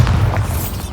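A single deep, booming magical blast from the Bombarda spell in Hogwarts Legacy, loud and near, rumbling briefly before fading out.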